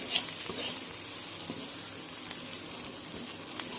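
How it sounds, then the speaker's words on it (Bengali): Onions sizzle and fry in hot oil in a pan for egg chowmein, a continuous crackling hiss with occasional stirring scrapes, close and without speech. "পেঁয়াজ ভাজা হয়ে গেছে, এবার ডিমটা ভেজে নেব।"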